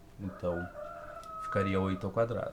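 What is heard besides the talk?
roosters crowing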